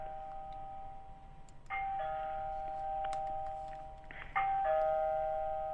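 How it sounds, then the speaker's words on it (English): A two-tone electronic doorbell chime rings twice, each ding-dong clear and sustained over a quiet room background, with no voices. "he said he's about to ring your doorbell."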